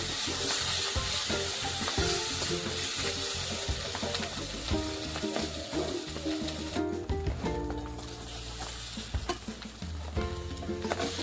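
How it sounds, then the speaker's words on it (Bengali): Steady, loud sizzling of garlic and ginger paste frying in a pan, with constant crackle and occasional stirring scrapes, alone without talk. "রসুন বাটাটা দিয়ে দেব, আদা বাটা, আবারও একটু কষিয়ে নেব।"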